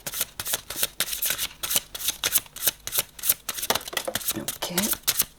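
Tarot cards are shuffled and drawn in a rapid, papery riffle of close flicks and slaps, running continuously while someone talks over them.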